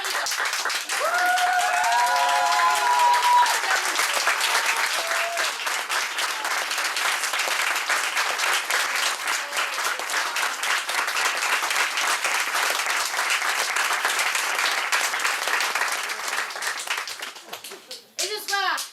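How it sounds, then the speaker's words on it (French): Sustained audience applause at an improv cabaret show at l'Espace, dense and loud for most of the clip with children's voices and shouts mixed in, tapering off near the end. "Je voudrais que les joueurs, compris moi-même, applaudissions le public que vous avez été."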